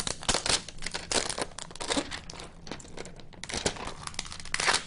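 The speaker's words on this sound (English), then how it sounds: "Go ahead and peel off the plastic." Protective plastic film being peeled and crinkled off a Nook tablet during an unboxing, a close, steady run of crackling rustles and tearing sounds with brief sharp crinkles and no talking.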